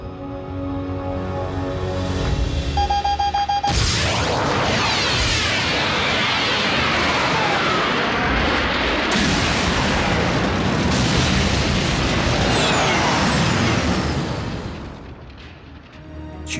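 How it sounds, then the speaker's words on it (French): A cartoon explosion of three tons of energon erupts after a short tonal lead-in, a massive sustained roaring blast with crackling debris that swells loud and slowly fades near the end. "le bruit d'une explosion de 3 tonnes d'énergon"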